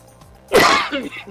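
A single loud sneeze bursts out abruptly, close and sharp with a breathy trailing release, followed by faint rustling in an otherwise quiet room.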